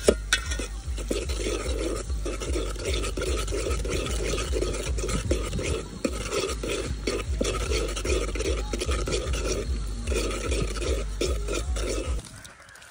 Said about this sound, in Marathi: मंद आचरणावर आपली भाजी शिजत आहे